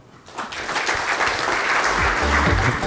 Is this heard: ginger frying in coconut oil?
no